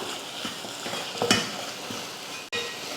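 Scraping and stirring turmeric into drumstick-flower rasam in a pan over a steady sizzle, with a brief louder clatter midway and a sharp momentary drop near the end.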